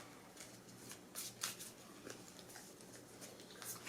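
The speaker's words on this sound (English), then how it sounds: "Can I shuffle these?" Playing cards for the Marvel Champions card game being shuffled at a table, a series of quick riffling bursts and soft patters, close and fairly quiet, ending in a sharper snap.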